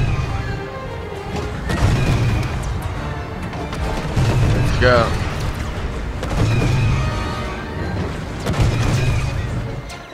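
Cannon fire and explosions in the Star Wars Battlefront II campaign, repeated heavy booms arriving every couple of seconds amid a dense rumbling battle din, with a voice briefly speaking over it.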